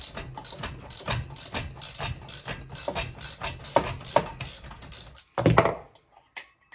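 A wrench ratchets rapidly to loosen the clutch lock nut on a Pioneer P60 chainsaw, giving a fast run of close metallic clicks that stops after a final few turns.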